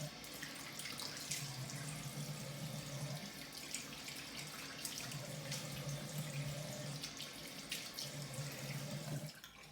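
Tap water runs steadily into a sink while a face is rinsed after shaving, a continuous near splashing stream with faint drips, no voices.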